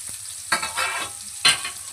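Onions and curry leaves fry in oil in a pan, producing a low hiss broken by a few close stirring scrapes, each followed by a surge of sizzle.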